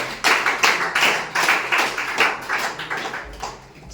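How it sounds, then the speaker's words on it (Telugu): An audience at a Ramayana quiz claps together in rhythmic, evenly spaced bursts, loud and close, fading slightly toward the end. "వెరీ గుడ్, క్లాప్స్ కొట్టండి"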